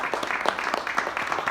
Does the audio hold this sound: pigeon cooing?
no